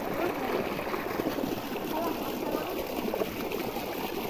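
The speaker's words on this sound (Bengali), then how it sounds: "এই যে এইদিকে জল যাচ্ছে পুকুরে" Water rushes steadily through a freshly cleared drainage channel into a village pond on a rainy afternoon, a continuous close wash of flow with faint voices in the background.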